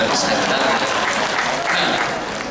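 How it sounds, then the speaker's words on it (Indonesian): Dense, steady applause from a crowd at an Archives Day celebration in Banyuwangi, loud and continuous throughout, with a faint murmur of voices beneath. "Tepuk tangan bagi yang betul dari saya."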